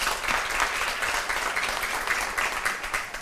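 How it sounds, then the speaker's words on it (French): An audience at a quiz competition claps for a team, a steady, lively round of applause from a room full of people, continuous and moderately loud throughout. "Applaudissez."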